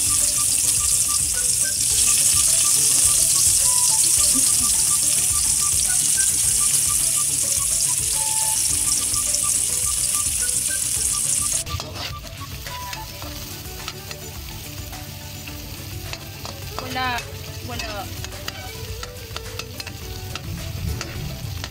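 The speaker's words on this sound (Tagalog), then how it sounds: "Lagay na natin ang ating tinayan na sibuyas and bawang." Chopped onion and garlic sizzle loudly in a hot pan in a home kitchen, a bright continuous frying hiss with stirring scrapes and clinks; midway the sizzle drops and softer clattering and splashy kitchen sounds follow.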